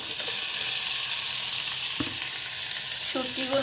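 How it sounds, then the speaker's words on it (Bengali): Chopped onions and dried fish (shutki) frying in oil in a pan, a loud, dense, continuous sizzle close by, with one sharp knock of a utensil partway through. "পেঁয়াজটা ভেজে নিছি, দিয়ে দেব শুটকিগুলো"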